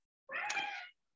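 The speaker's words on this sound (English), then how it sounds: "the cat has just joined me, and it's a very vocal cat" A single close meow from a vocal house cat, short and fairly loud with a rising, slightly strained tone, heard alone.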